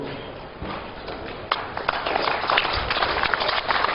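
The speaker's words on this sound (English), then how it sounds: "May you be on your feet as we welcome you with a round of applause" Applause from an audience at the opening ceremony of an all-stakeholder education summit, a dense wash of clapping that swells and holds steady for several seconds in a hall.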